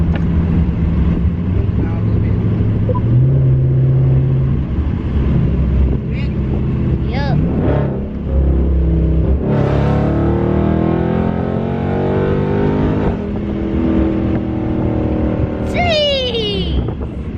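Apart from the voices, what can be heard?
2021 Dodge Charger Scatpack Widebody exhaust revving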